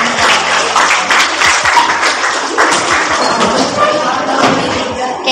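A classroom of students applauding a student group, dense continuous clapping close and loud with thumps and murmuring voices mixed in throughout.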